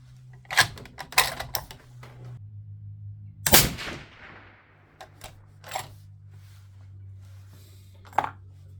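A 300 Norma Magnum rifle firing a 208-grain ELD-M load, including a hang fire, gives a sharp, loud report in the middle with a ringing tail, among several fainter clicks and knocks of handling before and after.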